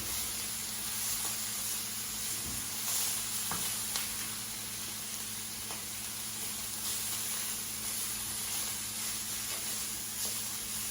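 Sausage fries in a cast iron pan with a soft, steady sizzle and hiss, punctuated by a few faint scrapes and taps, and no one speaking.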